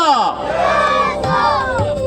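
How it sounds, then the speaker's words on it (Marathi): A large crowd roars a loud, sustained battle cry hailing Chhatrapati Shivaji Maharaj at the opening of a sports tournament in Konkan, with shouting voices rising and overlapping continuously throughout. "हा बुलंद आवाज, ही आरोळी आहे ती अशीच गगनभेदी राहील"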